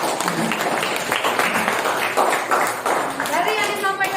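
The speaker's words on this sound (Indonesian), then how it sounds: "kita beri tepuk tangan dulu untuk kelompok 1." Classroom applause for a student group after their presentation, a dense steady patter of many hands clapping, loud and close, with some voices mixed in.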